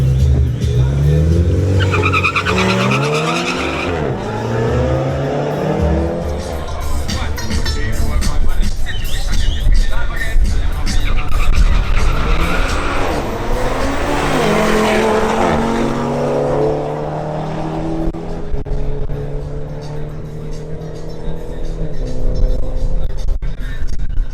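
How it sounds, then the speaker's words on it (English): An Audi RS3 launches hard down a drag strip, its engine roaring loud and climbing through repeated gear changes with tire squeal, continuously for most of the run before fading slightly at the end. "Next up is Anthony Julio in his Audi RS3."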